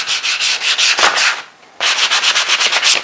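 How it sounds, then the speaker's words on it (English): Wood is sanded by hand with fine 220-grit sandpaper, loud, close rhythmic rubbing strokes in quick succession, pausing briefly before resuming at the same steady pace. "So I like to use 220 grit sandpaper."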